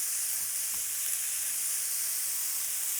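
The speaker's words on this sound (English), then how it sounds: "I'm just going to brown it up a little bit and cook the onions." Corned beef and onions browning in a skillet give a steady, close sizzle with a dense hiss throughout and faint occasional stirring taps, no talking.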